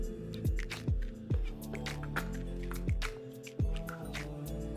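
A food processor or mixer crushes biscuits in short pulses, each burst of motor whine winding down in pitch, repeated about half a dozen times at a fairly quiet level.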